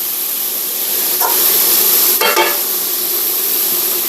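Peppers and onions sizzle in a pan for a cheesesteak casserole, a steady close frying hiss broken by a couple of brief stirring scrapes.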